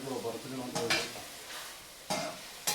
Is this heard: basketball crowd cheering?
no